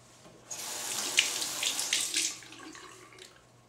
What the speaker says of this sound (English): wetting a brush